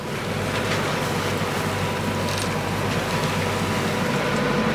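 A sailboat motoring under engine power, with a steady low engine drone and hum running continuously and fairly loud alongside wind and water noise.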